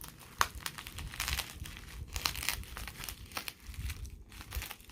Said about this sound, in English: let's unbox it or unwrap it. I'm just gonna cut it right here